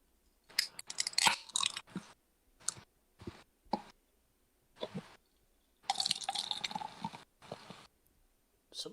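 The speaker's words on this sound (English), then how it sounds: "Somebody's pouring a cocktail." A cocktail is poured close by: irregular bursts of liquid splashing and dripping mixed with small clicks and clinks, broken by short silences, with no one talking.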